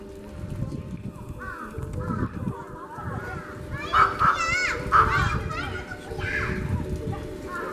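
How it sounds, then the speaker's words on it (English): Crows cawing in repeated calls at a bear park in Jigokudani, Noboribetsu, heard at moderate distance over steady outdoor ambience with low rumble and some background voices. "A lot of crows hanging around here."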